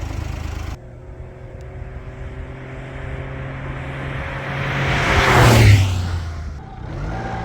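A Honda Acty mini truck passes close by on a road, its engine swelling to a loud peak and fading, heard from inside another moving vehicle with steady road noise.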